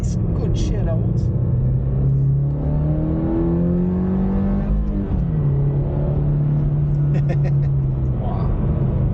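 From inside a Toyota GR86 sports car driving on the road, the engine drones steadily and loudly, its pitch climbing and shifting through the gears over a constant road rumble.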